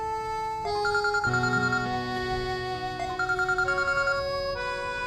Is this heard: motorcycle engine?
no